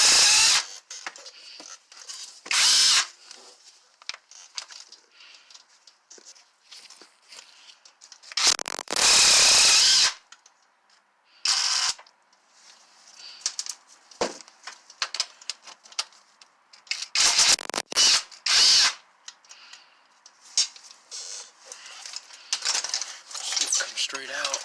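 A pneumatic impact wrench works on an engine mount bolt of a Nissan Altima V6, firing in several loud, short bursts with gaps of quieter workshop noise and clanking between them.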